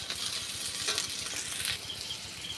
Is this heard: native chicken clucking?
no